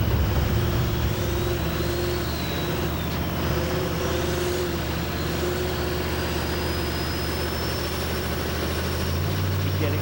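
Diesel Brothers trucks launch off a drag race starting line at a Monster Jam world record event, a loud, steady, near engine roar holding throughout with no break.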